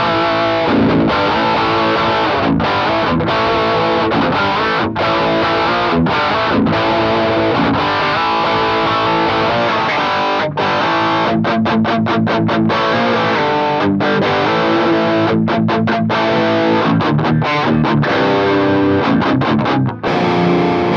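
Electric guitar through a 1989 Peavey Bandit 112 amp with a Tube Screamer-style boost, playing a continuous, heavily overdriven riff with choppy palm-muted stops, loud and close throughout.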